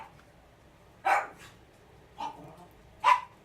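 A pet dog barks three separate times indoors, short sharp barks spaced about a second apart, moderately close, over a quiet background.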